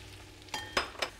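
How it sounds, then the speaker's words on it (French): Leeks and potatoes sautéing in a pan, heard as a faint steady sizzle broken by three quick scrapes and clinks of a utensil stirring, close by and with no talk. "On a fait revenir les poireaux et les pommes de terre."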